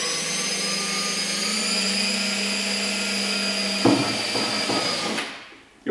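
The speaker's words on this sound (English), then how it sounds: "You'll note I'm using a step drill bit, unibit. I find these work the absolute best for fiberglass bodywork." A step drill bit bores through fiberglass race bodywork on a Honda CBR1000RR with a steady high-pitched whir. Toward the end it breaks into rougher grinding bursts before spinning down, heard close and alone.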